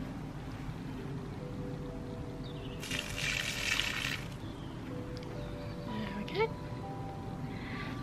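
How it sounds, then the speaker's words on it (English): Water is poured out of a hair dye mix for dyeing dreadlock extensions, making a brief splashing trickle lasting about a second, close by, with talk around it. "I'm just going to pour out some water."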